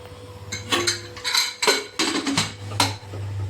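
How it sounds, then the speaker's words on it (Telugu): A pressure cooker is set down on a gas stove amid close metallic clanks and clatters, a cluster of hard knocks over a low steady hum from the burner area. "ఇప్పుడు గ్యాస్ మీద కుక్కర్ పెట్టేద్దాం."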